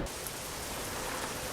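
Rain falling in Euro Truck Simulator 2, a steady dense hiss of a sudden shower drumming on a truck, constant and fairly loud throughout with no talking.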